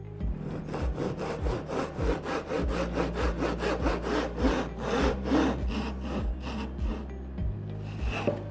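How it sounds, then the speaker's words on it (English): A hand saw cuts the shoulder of a wooden dovetail on a workbench frame, with a fast, steady run of rasping push-and-pull strokes, close and clear, ending with a brief pause. "Then a saw is used to cut the shoulder of the dovetail, being very careful not to go too far."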